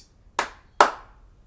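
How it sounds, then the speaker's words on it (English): Two sharp hand claps, about half a second apart, land close and loud in an otherwise quiet room during a kids' home exercise game. "can I get it? 2 claps."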